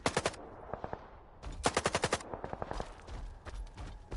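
Gunfire rings out in the video game STALKER 2, rapid bursts of automatic shots in quick rhythmic clusters, close and loud, with short pauses between volleys.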